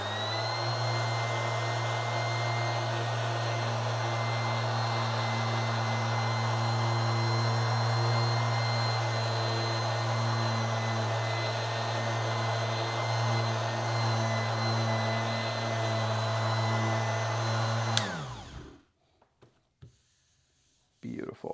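Steady loud whine of a Jellas orbital sander running at a higher speed on oak, a constant close drone with a strong low hum that cuts off abruptly near the end, leaving near silence.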